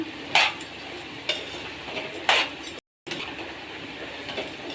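Cabbage stir-fry being stirred in a pan, with a few clear metallic spatula scrapes and clinks over a soft continuous cooking noise, close by and with no talking.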